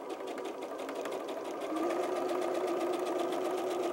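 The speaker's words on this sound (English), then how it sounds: "We're going to backstitch all the way and come right back on." Sewing machine backstitching a seam on doll clothes, a close steady whirring hum with rapid needle clatter that gets louder partway through, and no talking.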